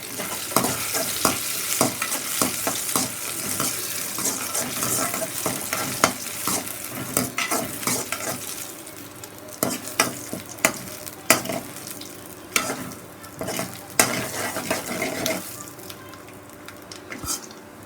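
Curry leaves and tempering spices fry in hot oil, a steady crackling sizzle broken by frequent sharp spatters and pops and the clink of a ladle stirring the pan.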